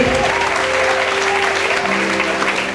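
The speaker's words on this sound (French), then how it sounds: "soutenez le Saint-Esprit dans ses actions avec les acclamations" Church congregation at a deliverance service applauding and cheering loudly, a dense continuous roar of clapping and voices lasting a few seconds, close and strong throughout.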